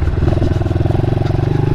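A 2015 Honda CRF110 motorcycle engine while riding, its loud, close, steady low drone carrying a fast rhythmic pulsing throughout.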